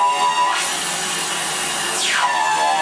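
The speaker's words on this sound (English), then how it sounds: "Here's the Super Saw again." A bright Super Saw patch on an Access Virus synthesizer plays a dense, buzzy sustained chord with sweeping filter movement, loud and alone throughout.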